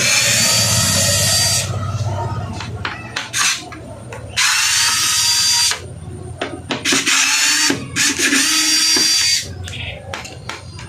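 A power drill unscrews nuts from the back panel of an LED TV in three long whirring runs. Between them come short clicks and clatter of parts being handled, close and loud, with no talking.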